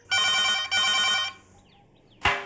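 A home telephone in a Tamil TV serial rings twice in a loud, close electronic trill, then falls quiet before a brief clack as the receiver is picked up.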